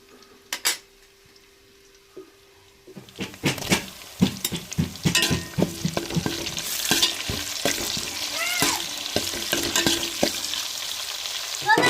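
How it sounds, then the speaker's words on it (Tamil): Onion, garlic, green chilli and tomato sauté in oil for a dried-fish curry. A quiet start gives way to a loud sizzle with repeated metal spoon scrapes and clinks against the pan, and no talking. "வெங்காயம் வெள்ளைப்பூடு பச்சை மிளகா தக்காளிலாம் வதங்கி வந்துருச்சு"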